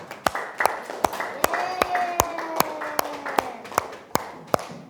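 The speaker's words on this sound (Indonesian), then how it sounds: "Ayo kasih tepuk tangan dulu untuk temannya" Steady, evenly spaced hand claps ring out in a classroom during a teacher-training session as a presenting student group is welcomed, about a dozen sharp claps in a regular rhythm with voices murmuring underneath.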